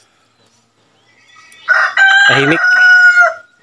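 A single loud, warbling turkey call bursts out close by after a quiet moment, gobbling and rising for about two seconds.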